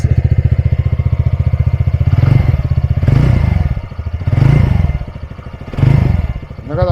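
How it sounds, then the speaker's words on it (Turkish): A TVS Ntorq 125 scooter engine idles with a pulsing exhaust putter, then revs up several times in short bursts, loud and close. "Şu egzozun sesini dışarıdan bir dinleyin."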